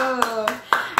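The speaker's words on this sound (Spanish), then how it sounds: "Un aplauso" A few distinct hand claps in a children's church session, four sharp claps at a steady beat while a voice carries on underneath.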